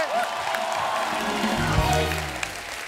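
Studio audience on The Kapil Sharma Show applauding and cheering, a dense continuous wash of clapping with a voice or tone rising over it near the end.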